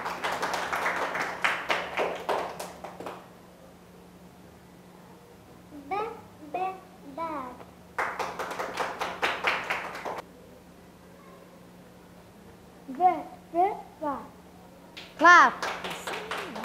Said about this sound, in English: Very good. Clap.